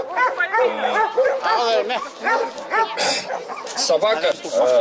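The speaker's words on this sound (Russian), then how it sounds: "выставка охотничьих собак" Yakutian Laika hunting dogs at a hunting-dog show in Yakutia, barking, yipping and whimpering continuously and close, with voices mixed in.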